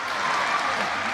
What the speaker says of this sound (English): Well, listen to that crowd.